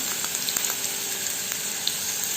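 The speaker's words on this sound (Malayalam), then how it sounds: "ഇനി ഇതിലേക്ക് ഒരു പകുതി സവോള ചെറുതായിട്ട് അരിഞ്ഞ് ചേർക്കാം." Half an onion, finely chopped, sizzles in hot coconut oil, giving a bright, even frying hiss with faint crackles, close and steady for a few seconds.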